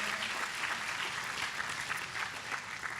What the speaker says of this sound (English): Let's give him a big round of applause, Reverend Sharpton.